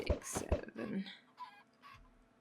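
Minecraft chickens give a few quick, soft clucks in the game over roughly two seconds, mixed with other game noises.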